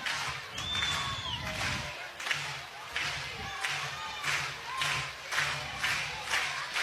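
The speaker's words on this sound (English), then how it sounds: "You hear the crowd." A softball stadium crowd cheers and claps in rhythmic waves during a tense strikeout count at an Oklahoma State versus Oklahoma game, loud and sustained, with a radio commentator's voice over it.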